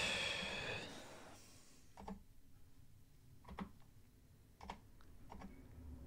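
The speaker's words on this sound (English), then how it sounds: "I'm afraid he's going to have to type that one again." Soft keystrokes tap on a computer keyboard in a few short, scattered bursts, faint and close in a quiet room after a brief whoosh of background noise fades.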